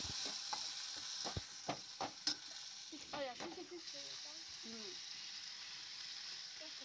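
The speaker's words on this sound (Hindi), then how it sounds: "ये देखिए, ये लगा तड़का।" Tadka tempering sizzling in hot oil for dal, a quiet, steady frying hiss broken by sharp crackles and pops early on, with a voice briefly audible partway through.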